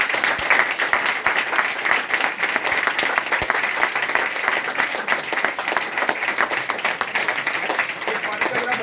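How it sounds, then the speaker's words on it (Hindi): Sustained audience applause and clapping at a business event at Sukhdev Dhaba in Murthal, honouring gold members on stage, dense and steady throughout with crowd noise underneath. "वैसी ताली उनके लिए आप बजाओ।"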